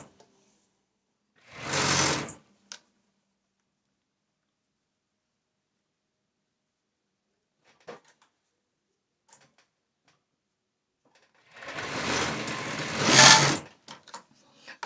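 A serger sews elastic onto two-piece dancewear in two bursts of rapid whirring stitching, a short run early and a longer one near the end, with quiet handling clicks between them.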